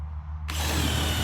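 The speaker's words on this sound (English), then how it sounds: "Pre-drill a hole." A power drill with a 5/16 inch bit bores a pilot hole through trailer boards held with metal on top and bottom, starting abruptly and whirring loudly and steadily to the end.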